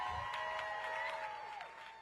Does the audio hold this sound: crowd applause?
yes